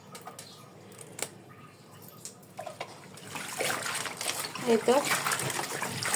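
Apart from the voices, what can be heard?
washing leafy greens in water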